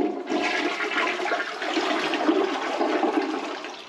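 A toilet in a tiny house flushes in a steady, loud rush of water that runs for several seconds, close by and without talk.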